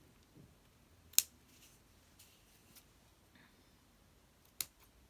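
Two crisp scissor snips trimming craft material for a design-and-technology project, spaced a few seconds apart in a quiet room with faint handling noises between them.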